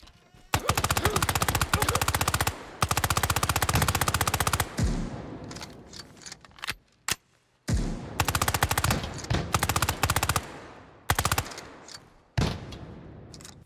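Rapid automatic gunfire rattles through a firefight in the tactical shooter Ground Branch, long loud bursts broken by brief pauses and scattered single shots, with no voices.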